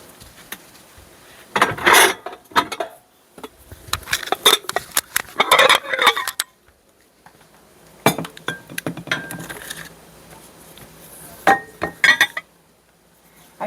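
Metal pans clink and scrape in a home kitchen in scattered bursts of handling, a cluster early on and another later, with quiet gaps between; no talking.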